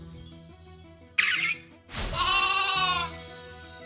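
A sheep in the Minecraft Cobblemon mod gives a couple of close, loud, wavering bleats over quiet background game music.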